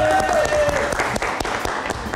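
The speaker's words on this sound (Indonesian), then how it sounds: "Tepuk tangan buat Otong." A studio audience at a late-night live comedy show claps for a performer, with dense, loud applause throughout and a brief whistle near the start.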